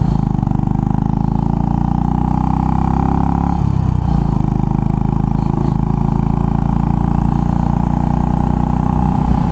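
A Royal Enfield Bullet 500 motorcycle being ridden, its loud, steady single-cylinder thump heard up close, with a brief drop in engine note partway through before it settles back into a continuous throbbing drone.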